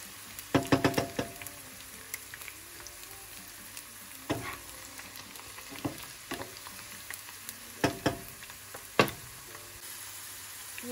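Oil sizzles in a pan while spices fry for a lemon and green chilli pickle, a continuous close crackle punctuated by several sharp stirring knocks and clinks at irregular intervals.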